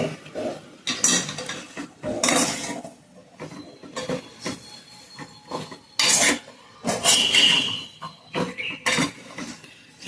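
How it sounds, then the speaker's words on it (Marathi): Pumpkin (gangaphal) pieces are stirred with salt in a pan, a spoon scraping and clinking against the metal in irregular bursts, close up and without talk. "छान कालवून घ्यायचं आहे."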